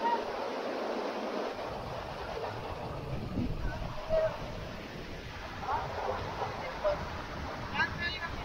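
The swelling mountain river at Kagbeni, rising and carrying stones along with it, gives off a steady, broad rushing roar that fills the whole stretch, with faint voices in the background.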